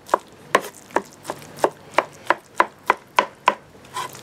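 A knife chops eggplant on a cutting board in about a dozen crisp, evenly spaced strikes, close and clear, with no voices.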